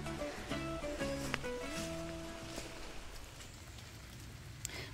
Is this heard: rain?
yes